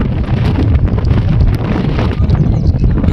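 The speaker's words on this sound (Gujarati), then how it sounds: "પવન એટલો છે ને કે વાત પૂછોમાં" Loud, gusty wind buffets the microphone continuously, a thick roaring rumble with no pauses.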